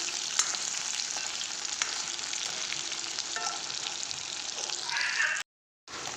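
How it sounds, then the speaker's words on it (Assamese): Paneer cubes frying in hot oil in a kadai until they turn reddish, a continuous close sizzle with light stirring and scraping, briefly cut to silence near the end. "এইখিনি অকণমান ৰঙা পোৱালৈকে ভাজি ল'ম।"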